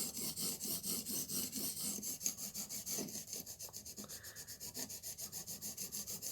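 A knife blade being re-profiled on a TSPROF Blitz 360 sharpener, the stone rasping along the steel in steady, close back-and-forth strokes with no talking.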